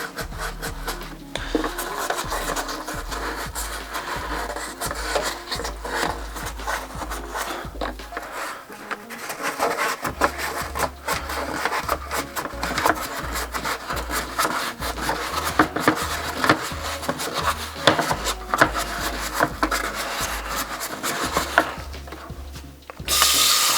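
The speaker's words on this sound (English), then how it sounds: "so scrape it off a little bit more" Continuous rough scraping of mineral buildup off a humidifier heating pad, a gritty rasping that repeats in quick uneven strokes, close up and steady throughout with no talking.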